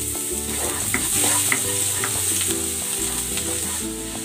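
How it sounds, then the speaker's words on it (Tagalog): Garlic sautéing in a pan: a loud, continuous sizzle with occasional stirring scrapes, steady throughout with no talk. "Igigisa ko na tong bawang."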